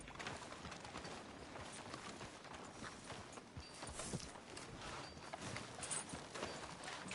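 Horse hooves clip-clop in a steady walking rhythm in the Red Dead Redemption video game, faint and continuous with no talk over them.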